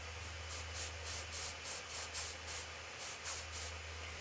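Copic airbrush spraying ink in short, regular hissing bursts, about a dozen evenly spaced puffs, close and fairly quiet over a low steady electrical hum.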